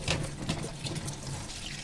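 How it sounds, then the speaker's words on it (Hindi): Tap water running into a sink while muddy katarua mushrooms are washed, a soft steady stream with faint splashes and trickles, close and quiet with no talking. "बहुत ही ज़्यादा पानी से धुलते हैं ये।"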